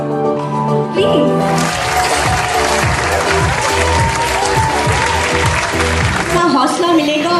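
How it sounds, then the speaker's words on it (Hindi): Audience applause fills a stage event at an international cake competition in Jeddah, Saudi Arabia: steady, dense clapping from a crowd over loud music throughout, swelling briefly near the end. "Please give her a big round of applause, everyone."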